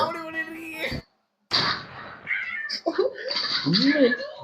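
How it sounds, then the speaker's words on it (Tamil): Cat meowing in a short social media reel, with tonal, wavering cries in the latter part of the clip under and between loud voices and music. "இதே ஒரு பூனையும் வந்திருக்கு."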